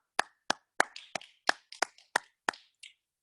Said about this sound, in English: I hope students too from your home can share some applause for these teachers